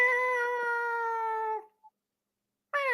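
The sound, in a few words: person imitating a cat meowing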